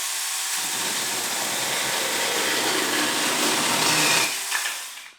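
A small chainsaw cutting wood roars steadily for several seconds at close range, then cuts off abruptly.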